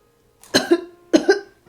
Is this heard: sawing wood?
no